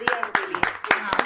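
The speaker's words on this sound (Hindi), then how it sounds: "इनके लिए जोरदार तालियां आदरणीय डॉक्टर मुक्ता मिश्रा जी के लिए।" A handful of sharp, scattered claps ring out at a Navratri poetry gathering, irregular and fairly close, while a person keeps talking over them.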